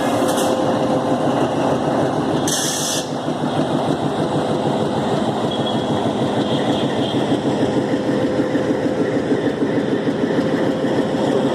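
A Nilgiri Mountain Railway toy train in India runs steadily with a continuous engine drone and rhythmic wheel clatter, fairly loud and close throughout. Two brief higher-pitched squeals or hisses break in near the start.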